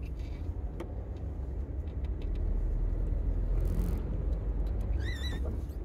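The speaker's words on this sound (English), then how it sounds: "That's one of those lorries that goes around picking up scrap metal, isn't it?" A scrap metal collection lorry driving past, its engine rumble swelling louder mid-clip before fading, with rattles, clicks and a brief chirping squeal near the end.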